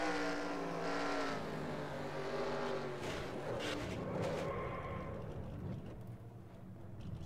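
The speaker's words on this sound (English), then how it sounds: "Let's go on board with Paul Minnick in the 48 car." Onboard sound from the 48 race car on a dirt track: a loud, close engine roars and revs continuously, with shifting pitch and rough bursts as it races.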